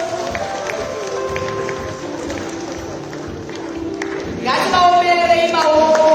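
An audience claps steadily at a capital markets award ceremony, a dense sustained patter of many hands filling the room; a loud tonal voice or music cuts in over the clapping near the end.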